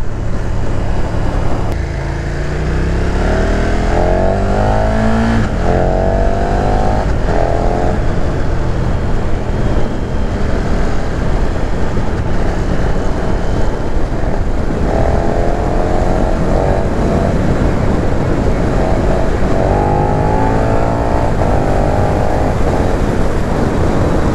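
A 2020 KTM 1290 Super Duke R motorcycle engine, loud and close, revving up repeatedly through rising gear pulls with a steady powerful drone between accelerations.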